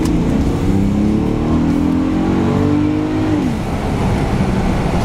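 A 2018 Volkswagen Atlas SE with a turbo engine is floored from inside the cabin, the engine revving up loud and steady, its pitch climbing through a gear before settling, heard close with a window rolled down and no talk.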